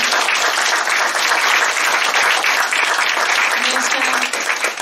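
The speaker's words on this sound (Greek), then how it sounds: "Ένα χειροκρότημα παρακαλώ" An audience at a poetry book presentation breaks into sustained, dense applause, loud and close, fading slightly toward the end.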